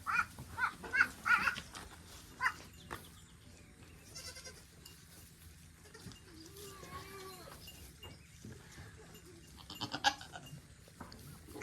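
Baby goats bleat out in a creekside pasture, several short cries close by at the start and again near the end, with quieter rustling and distant bleats in between.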